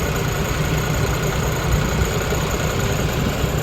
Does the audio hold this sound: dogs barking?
no